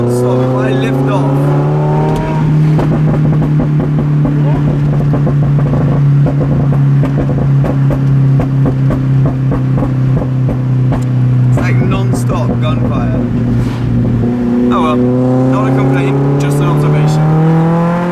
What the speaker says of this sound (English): the car, as you can probably hear, it's popping a lot today